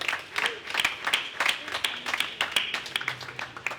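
Clapping from a congregation at a Sunday church service honours a member, a fairly close, uneven patter of many hands with scattered sharper claps throughout.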